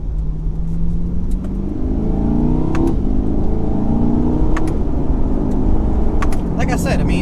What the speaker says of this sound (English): I'm bombing down these back roads at triple almost speed limit